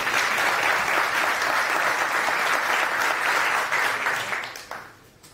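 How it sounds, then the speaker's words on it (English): A conference audience at FOSDEM 2020 breaks into sustained, dense applause from many hands in a hall, holding steady and then tapering off over the final second. "please, good round of applause and take it away"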